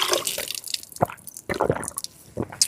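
Water drips and splashes irregularly at a hilltop stepwell at Songarh Fort, a few close, distinct drops and trickles standing out alone against a quiet background.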